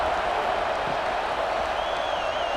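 A dense stadium crowd roars and applauds steadily in College Football 26, a loud continuous wash of cheering with a faint whistle-like tone rising near the end.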